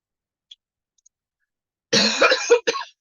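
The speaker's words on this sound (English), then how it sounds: "I apologize for coughing." A single close, harsh cough with two quick bursts after a moment of near silence.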